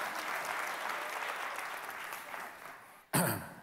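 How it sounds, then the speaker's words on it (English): A church conference crowd applauds in a dense, sustained wash of clapping that gradually thins, then a sharp loud thump cuts in near the end. "give yourselves a hand clap"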